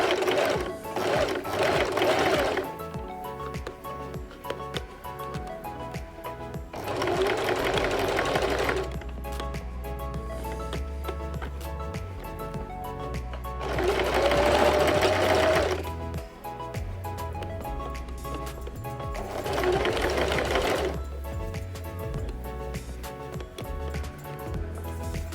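A sewing machine stitches a French seam, running forward and back in four steady bursts of fast, buzzing needle chatter with short quiet pauses between them, close and clear.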